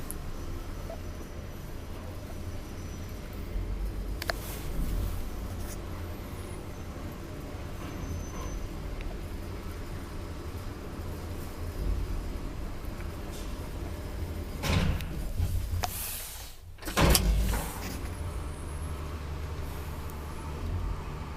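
An old 1983 Valmet traction elevator runs with a low continuous rumble while its doors slide open and shut, giving louder mechanical swells and thuds near the end.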